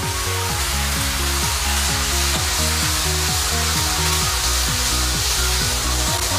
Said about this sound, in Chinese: 锅一下油，把油烧到冒小烟，先把猪肚炒一下。